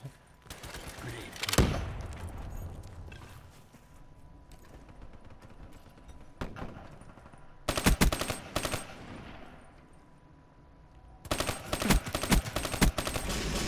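XR2 burst rifle fire in Call of Duty Black Ops 3 comes in loud, rapid clusters of shots, with a quieter stretch between the bursts and a dense final volley.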